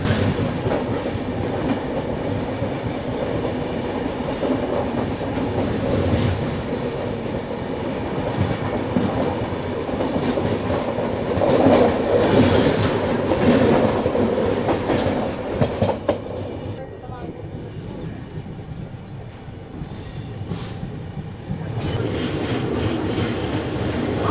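An AP Express train passes during a crossing on an Indian railway line, its carriages rumbling and clattering steadily and loudly for the whole stretch with no break, the wheels clicking over rail joints at close range.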